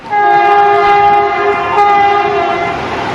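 Train on the Coimbatore–Palakkad railway line sounding a long, loud, steady multi-tone horn as it passes close by, with rumbling wheels underneath and no voices.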